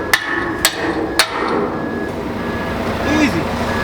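Three sharp, loud hammer strikes ring out in quick succession at the start of the clip, then give way to a steady background hum with a faint reversing-type beep near the end.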